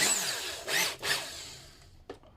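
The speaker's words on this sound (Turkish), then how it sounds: "motor yerine matkap kullanıyorum." Short bursts of a whining power drill used to drive screws, spinning up and winding down a couple of times, close by with a brief clack at the end.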